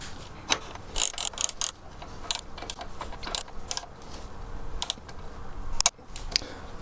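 A ratchet clicks in quick irregular bursts, close by, as bolts are torqued on the rear brake assembly of a Yamaha TZR motorcycle being rebuilt, with small metallic handling noises between the runs of clicks.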